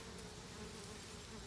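Bees and wasps buzz steadily around allium flowers in a garden, a faint, continuous insect drone that holds evenly with no talk.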